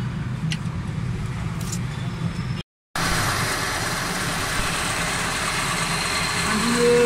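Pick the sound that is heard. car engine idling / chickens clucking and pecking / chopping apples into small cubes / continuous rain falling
car engine idling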